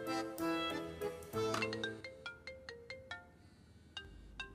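A phone rings after a number is dialed in an Iranian drama serial. Bright electronic ringtone notes play loudly at first, then thin into a series of spaced single tones that fade out, with no speech.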